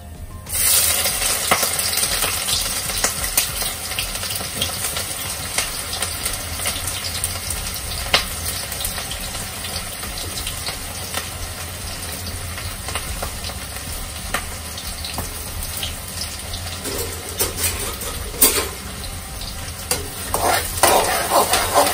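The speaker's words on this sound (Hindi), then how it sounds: "अब हम सबसे पहले प्याज फ्राई करेंगे" Onions frying in a pan for a mutton raan, with a constant close sizzle punctuated by sharp stirring clicks and scrapes that grow busier toward the end, with no voices.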